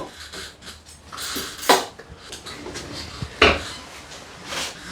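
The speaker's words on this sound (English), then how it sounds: "I am going to give that a quick stir" Homemade mulled spiced wine made from Aldi juice, stirred quickly in a pot: scattered clinks and knocks of a utensil against the pot, with two sharper clanks standing out.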